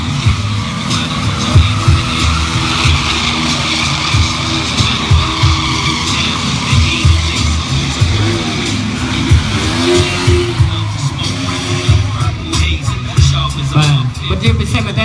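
Motorcycles drifting with skidding, squealing tires at a Koh Pich event in 2014, including a Honda 200 machine, heard as a continuous loud roar of engines and tire scrub with no break.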